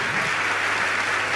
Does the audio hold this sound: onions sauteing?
no